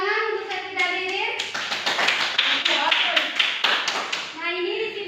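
A classroom of students claps together in a brief burst of applause, bracketed by a teacher's voice before and after.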